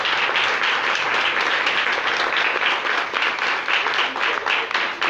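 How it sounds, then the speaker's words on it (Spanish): A church congregation claps together during a Spanish-language service, a dense, steady wall of applause with faint rhythmic pulses, close and sustained with no talk on top. "¿Le puedes dar un aplauso al Señor Jesús?"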